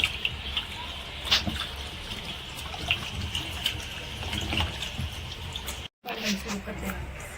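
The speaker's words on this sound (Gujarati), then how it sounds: "આપણે પહેલાં બટેટા બરાબર ધોઈ નાખી" Potatoes being washed in a basin of water for homemade potato chips, with continuous splashing and sloshing plus occasional knocks, close and moderately loud, with a brief dropout near the end.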